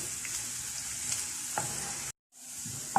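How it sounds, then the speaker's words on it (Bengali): Onions fry in ghee and oil over medium heat with a constant close hiss and a few soft stirring taps; the sound cuts out briefly near the end before returning. "মিডিয়াম আঁচে রেখে আমি ঘি আর তেলের সাথে পেঁয়াজগুলো বেরেস্তা করে নিচ্ছি।"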